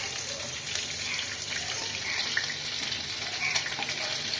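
Gurjali fish frying in hot oil gives a steady, close sizzle with a dense crackling hiss that carries evenly throughout, with no voices.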